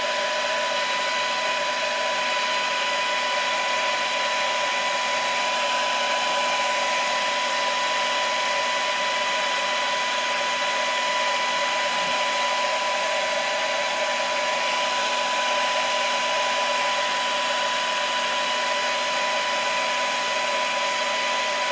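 Heat gun heat-setting fresh red paint on a topwater fishing lure, a steady loud blowing whir with an even high hum, unbroken for over twenty seconds with no talk.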